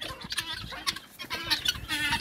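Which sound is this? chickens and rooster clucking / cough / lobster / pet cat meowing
chickens and rooster clucking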